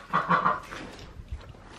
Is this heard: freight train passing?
no